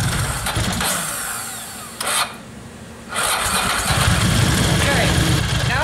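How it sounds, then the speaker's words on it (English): An engine on a weak, half-charged battery cranks and turns over with a strained, labored whir, dropping out briefly before cranking again, loud and close. "Also listen to the sound that the engine makes here."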